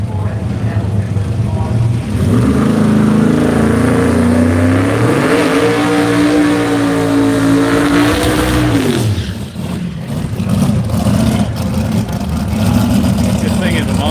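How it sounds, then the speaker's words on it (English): A twin-turbo big-block XY drag car at an Australian radial drag race makes a full pass, its engine roaring loud and rising in pitch, easing briefly near the end, while a voice talks over it. "Twin Turbo XY's going down for a full run, 628, 117 mile an hour in the far lane"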